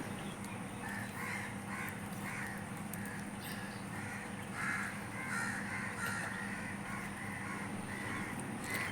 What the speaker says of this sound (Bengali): কাকটা যেহেতু ব্যথা পেয়েছে ওর জন্য ও পড়ে গেছিল আর এর জন্য কাকগুলো খুব ডাকছিল